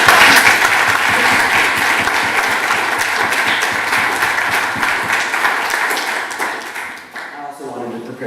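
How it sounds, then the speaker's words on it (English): Conference audience at PyCon Austria 2026 bursts into loud, dense applause that sustains for about seven seconds, then thins and fades as a voice begins speaking near the end. "And y'all, let's give coffee a round of applause."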